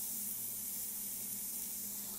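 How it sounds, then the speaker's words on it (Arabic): Onions sizzling in a little oil inside a heated pressure cooker, a steady close hiss with a bright broadband texture that stays even throughout, no voices. "ببدا اضيف البصل مع شوي زيت بحمسه"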